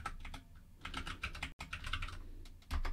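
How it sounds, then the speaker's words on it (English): Quiet, rapid typing on a Mac laptop keyboard, a steady patter of close, soft key clicks with a brief pause midway, entering a terminal command with no voices. "So I'm going to type crane manifest and give it the name of this image we just pushed"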